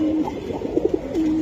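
Giribaz pigeons coo nearby, a low rounded cooing phrase with a few short pulsing notes in the middle, clear and without voices.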